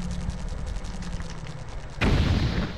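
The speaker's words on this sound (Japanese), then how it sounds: "あ、爆発した。" An explosion in Zelda: Twilight Princess, a sudden loud burst that cuts in after a stretch of rapid rattling bursts and then keeps roaring.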